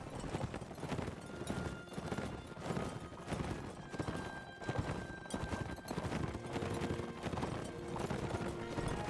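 A horse gallops in the Mount & Blade video game with rapid, continuous hoofbeats at an even rhythm that fill the whole stretch, close and steady, with a faint whinny mixed in.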